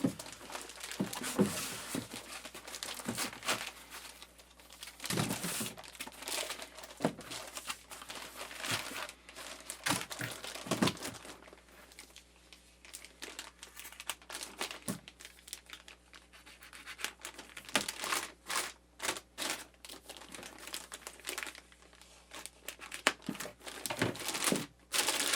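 Packaging material around an Apollo x8p audio interface crinkles and rustles during unboxing. Bursts of plastic crinkling and scratching recur unevenly throughout, close and moderately loud, with brief pauses between handling sounds.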